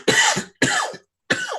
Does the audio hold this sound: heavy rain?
no